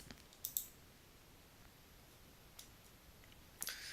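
Computer mouse clicks on a download button, several quiet sharp clicks in an otherwise hushed room, two close together near the start and a couple more spaced later.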